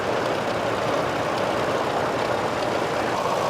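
Small tractor engine running at the Wheels at Wanaka vintage vehicle show, a steady, loud, close rumbling drone without pauses.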